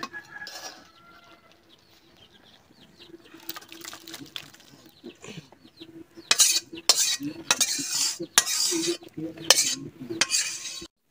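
A pot of cooked dal lifted off the stove in a village kitchen: quiet scraping and metal clinks build into loud pot and utensil clatters in the second half, with faint birds in the background.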